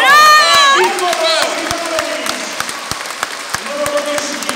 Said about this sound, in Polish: Wielki aplauz za Szymy Jungo